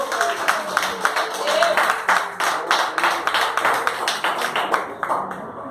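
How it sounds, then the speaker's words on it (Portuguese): A church congregation at a Pentecostal New Year's Eve service claps in rhythm, fairly even beats with voices underneath, close and moderately loud. "Pode aplaudir o Senhor."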